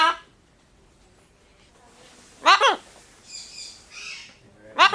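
Central American Amazon parrot makes sharp squawks and chattering calls in short bursts, with a loud double squawk midway and another at the end, set against a quiet room.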